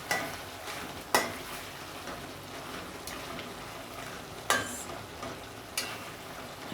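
Chicken liver for a Jamaican stew browning in its own juices in a pan, a steady soft sizzle with a few sharp clicks of stirring or utensil taps, close and without talk.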